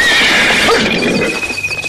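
Horses neigh and squeal in a loud, continuous burst, with shrill whinnying rising over a rough, noisy outdoor background and no talk.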